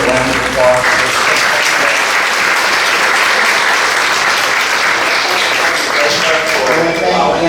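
An audience at a workplace culture event claps for a panel, with loud, dense applause rolling steadily throughout and some voices mixed in beneath it.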